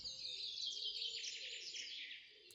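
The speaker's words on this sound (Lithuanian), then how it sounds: "sučiulba paukštis." A bird sings softly high in a tree above a gazebo in a forest, a continuous, lilting, lullaby-like song of rapid high notes that carries steadily throughout.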